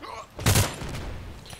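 Single pistol shot from an M1911A1, Colt Python Elite or Beretta in the shooter Contract Wars, a sharp loud crack with a short tail of reverberation, standing alone in a quiet moment.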